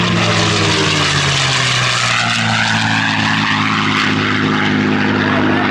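A World War II era propeller airplane roars past at over 300 miles an hour on a low photo pass at an airshow, a loud, steady, throbbing engine drone with a falling Doppler pitch, with no voices.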